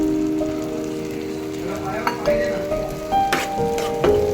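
Green masala paste hitting prawns in a hot pan on a Malvani-style stovetop, giving a steady broadband sizzle with a few brief scraping stirs and clinks, close and moderately loud, while a voice speaks over it.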